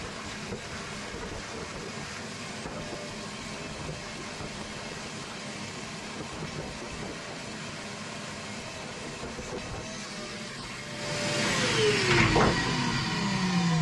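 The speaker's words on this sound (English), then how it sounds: "Run the hoover over it." A small hoover runs inside a boat interior during a cleanup. It gives a steady, broadband whirring drone that swells louder near the end, with a shifting tonal whine. No one speaks.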